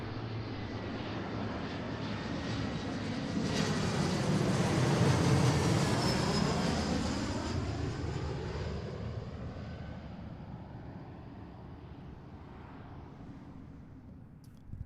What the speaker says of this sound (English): This is SkyWest 3372 flying under the Alaska banner.